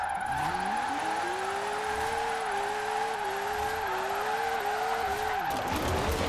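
A retro Porsche drifts in Forza Horizon 4, its engine holding a steady drone in one gear while the tires squeal continuously through an extended slide, loud and unbroken throughout.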